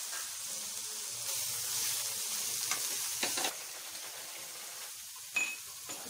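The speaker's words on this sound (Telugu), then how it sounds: "నేను టమాటాలను కట్ చేసి ఇందులో వేస్తున్నాను" Chopped tomatoes dropped into a pan of frying masala for an Andhra-style meal maker curry, a close, steady sizzle with occasional spoon clinks and stirring scrapes.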